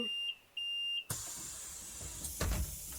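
Bus doors in a bus-driving video game on route 185 toward Os. Sobieskiego: three clear warning beeps, then a loud pneumatic hiss and rumble as the doors slide shut, ending with a thud.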